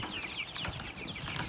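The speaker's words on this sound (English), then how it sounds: "I'm moving the chickens to a fresh spot." Chickens cluck and squawk in quick, agitated bursts while being moved to a fresh spot in an off-grid village, close by and loud, with no voices over them.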